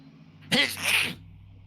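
A single sharp, close sneeze stands out against a quiet background hum.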